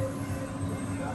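An automatic driverless metro train runs through Dubai near Ibn Battuta station, giving a steady, even rumble of wheels and carriage noise throughout the short moment, with possible voices in the background.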